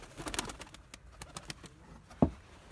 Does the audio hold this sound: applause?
no